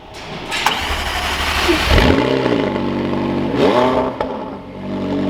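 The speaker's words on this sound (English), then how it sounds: "We're about to get a cold start up on the 720S Spider." A McLaren 720S Spider engine cranks and fires up loudly on a cold start, settling into a rumbling idle with two sharp revs before dropping back.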